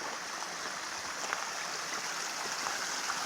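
Steady rushing hiss of a mountain stream along the Pacific Crest Trail near Milk Creek, continuous and even, close by with no talk.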